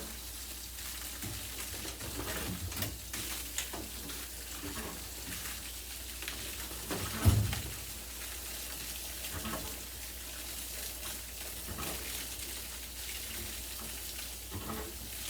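Running water rinses a flea-infested dog in steady, even spraying and splashing that continues throughout, with a brief louder knock partway through.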